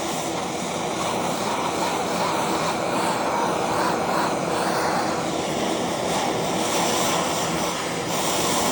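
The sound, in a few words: torch heating a transmission part for heat treating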